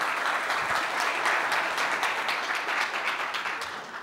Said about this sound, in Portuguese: Eu não ganho palmas aqui?